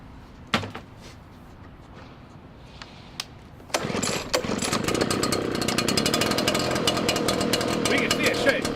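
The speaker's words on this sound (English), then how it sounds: "So when we start this machine," A Golden Eagle leaf blower engine is pulled over, catches after a few tugs and settles into a loud, buzzy two-stroke roar held close and steady to the end.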